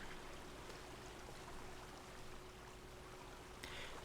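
A stream flows steadily in the video game Obduction, a constant soft wash of running water with a faint hum beneath it.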